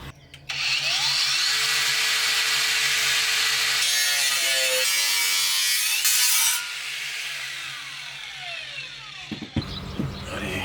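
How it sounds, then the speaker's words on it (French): Power saw cutting through sheet metal for a BMW 325ti E46 bumper, a loud sustained abrasive whine with shifting pitch, then stopping with a few light clanks near the end. "La tôle aussi, il faut que je la coupe."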